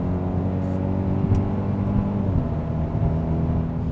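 A 2021 Kia Optima with the 1.6 turbo engine and its synthetic engine sound generator gives a steady, droning cabin hum while driving, loud and close with no talking.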